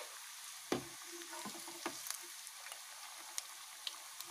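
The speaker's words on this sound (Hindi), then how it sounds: "मीडियम फ्लेम पर इसे कुक होने देंगे" Cabbage rolls fry on a medium flame, a soft constant sizzle dotted with sharp pops and a few clattering knocks of a utensil against the pan.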